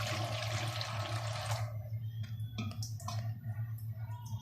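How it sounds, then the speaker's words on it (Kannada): Water poured into a bowl of tamarind, a short rushing splash for about a second and a half, then softer trickling and dripping sounds close by. "ಒಂದು ಸ್ವಲ್ಪ ನೀರು ಹಾಕಿ"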